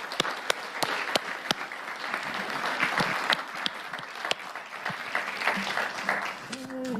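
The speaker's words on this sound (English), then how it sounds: "we will go ahead and clap for her." Graduation ceremony audience clapping, a steady wash of applause with several sharp, close individual claps standing out and a voice briefly audible near the end.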